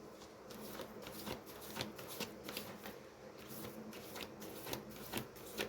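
Playing cards being shuffled by hand, a series of soft riffling and flicking bursts repeating through the stretch, fairly close and quiet, with no talk.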